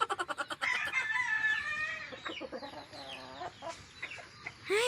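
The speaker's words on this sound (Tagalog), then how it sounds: "nag-aabang na yung isang manok dyan kasi gusto na niyang kumain" Chickens cluck and squawk close by, a rapid burst of clucks followed by drawn-out calls and scattered chatter from the flock.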